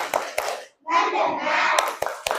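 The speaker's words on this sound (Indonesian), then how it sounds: "Sebelum memulai materi, yuk kita tepuk fokus" A class of pupils performs a rhythmic focus-clapping routine in a classroom: a couple of sharp, close claps, a short group chant in unison, then several more crisp claps.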